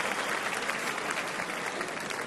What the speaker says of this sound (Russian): Понравился публике этот раунд. Мы это слышим по аплодисментам из зала.